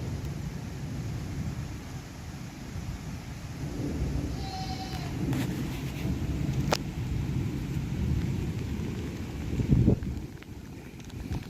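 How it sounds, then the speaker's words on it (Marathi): Heavy rain pours steadily with gusty wind and low rolling thunder, a louder rumble near the end, plus a few sharp clicks and knocks. "पाऊस झालाय सुरुवात जोरात"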